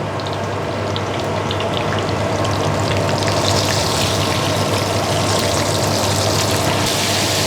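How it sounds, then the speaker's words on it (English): Duck deep-frying in hot oil in a wok makes a loud, dense, continuous bubbling crackle that holds steady throughout with no pauses. No one speaks. "The oil gets hot, then we deep fry it."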